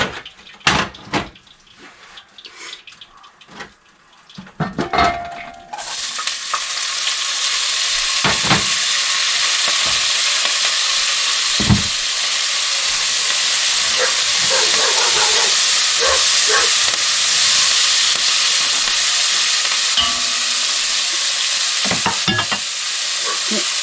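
Spring onions fry in a pan for a chicken curry, a loud, steady sizzle and hiss that runs unbroken after a few quiet taps and scrapes at the start.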